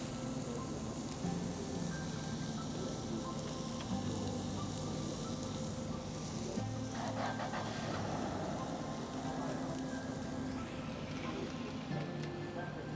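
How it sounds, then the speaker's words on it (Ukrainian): Halved small potatoes and mushrooms fry on a barbecue grill surface with a steady, soft sizzle, faint background hum and a few light clinks, and no talk over it. "розрізала її на половинки та кинула ось на таку поверхню, щоб вона смажилась"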